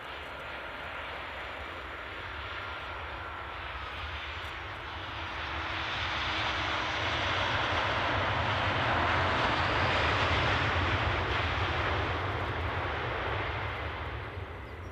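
Airliner at Edinburgh airport, a broad roaring engine wash that swells to a peak midway and holds, loud and steady without talk.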